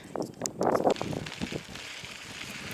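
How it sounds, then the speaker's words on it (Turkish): Strong wind roars and buffets the microphone in loud gusts during a cold-weather mountain bike ride, strongest early on, then settling into a steady rushing noise. "rüzgarın sesini duyuyorsanız çok fena rüzgar var"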